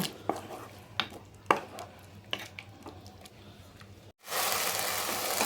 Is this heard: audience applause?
no